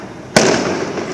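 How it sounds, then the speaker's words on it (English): A firework rocket launched by a battery-powered remote igniter with a nichrome coil goes off in a sudden loud burst, then a sustained roaring hiss. "Now I'm going to fire the rocket using the remote control."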